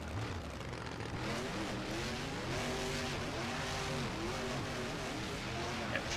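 A monster truck in the Rigs of Rods driving game, racing in a 2015-2016 Brutus and Electric Mayhem setting, gives off a steady, rumbling engine drone with shifting revs under a constant noisy background, with no pauses.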